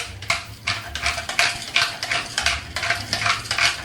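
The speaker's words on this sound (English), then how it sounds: "Let's give it a little bit of a stir" A spoon scrapes and clacks around a pot of oxtail stew seasoned with oregano, fennel seeds and black pepper, in a steady rhythm of about a dozen close, fairly loud strokes with no voices.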